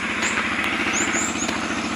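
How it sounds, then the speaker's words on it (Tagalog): Vehicle and machinery engines run nearby at a treasure-hunting site, a steady rumbling drone with a pulsing low throb and brief high squeals over it, continuous and fairly close. "Yung marinig nyo na may tunog na mga sasakyan, yung mga makina."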